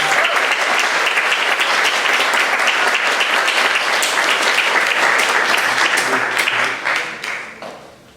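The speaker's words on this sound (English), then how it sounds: "give him a big round of applause" Audience at a school jazz concert applauding steadily and loudly, a dense wash of clapping that holds for several seconds, then fades out toward the end.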